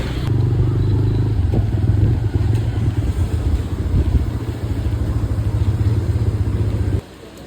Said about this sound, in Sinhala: අපි බයික් එකේ තමයි යන්න ලෑස්ති වෙන්නේ